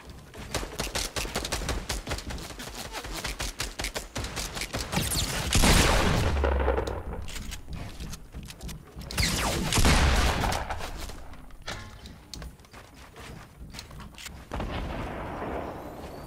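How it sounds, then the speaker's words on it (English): Rapid gunfire from the video game Fortnite rattles steadily throughout, with heavier booming volleys swelling around the middle and again later, sustained and close with no talking. "They're shooting at me"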